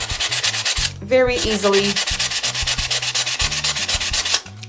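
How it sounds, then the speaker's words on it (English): Paper napkin collage being sanded against a glass plate, giving steady, close scratchy rubbing strokes in a quick repeated rhythm; a voice speaks briefly in the middle. "by sanding your paper and your glass at the same time"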